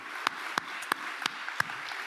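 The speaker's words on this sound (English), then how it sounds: "let's give both of our presenters a round of applause from WRI and the New School Urban Systems Lab" A handful of scattered, separate claps from a small audience at a Climate Week NYC 2023 presentation, faint and spaced about a third of a second apart.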